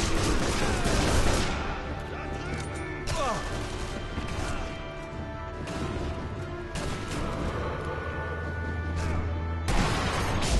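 Gunfire in the World War II sniper game Sniper Elite V2 at the Tiergarten Flak Tower in Berlin: repeated loud rifle shots and crashing impacts over a rumbling battle backdrop, with brief talk.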